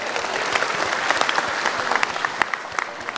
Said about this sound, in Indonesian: Wah, tepuk tangan luar biasa atas sambutan tadi.